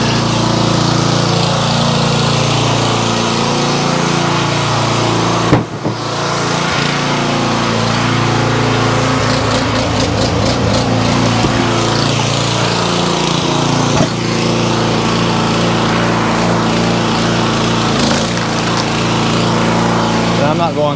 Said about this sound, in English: This log splitter may be a little bit low on hydraulic fluid.